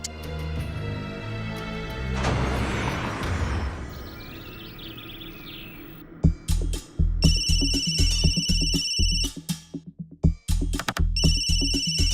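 After some quieter background sound, a phone ringtone starts up loudly, repeating its bright electronic tune in short pulsing bursts.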